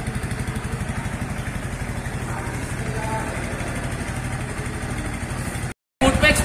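A Bajaj Pulsar NS160 BS6 motorcycle engine runs steadily at idle with a low, even rumble throughout, near and loud, briefly cutting out near the end before resuming.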